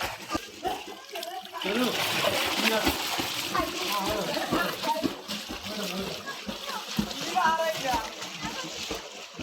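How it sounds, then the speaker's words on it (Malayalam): Water in a pond splashes and sloshes as a child steps in, the churning starting abruptly and carrying on close by while people talk over it. "സാനി ഇറങ്ങടാ കുറച്ചിങ്ങോട്ട് വെള്ളത്തിലോട്ട് ഇറങ്ങി"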